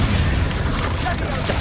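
Confringo fire spell blasts in Hogwarts Legacy, a dense rumbling boom with crackling bursts that fills the whole moment at steady loudness, with a voice speaking over it.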